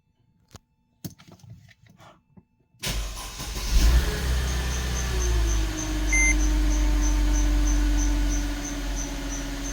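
A Mercedes car with a reverse gear fault cranks and its engine catches, settling into a steady, loud idle after a few quiet clicks, with a faint repeating electronic chime over the running engine.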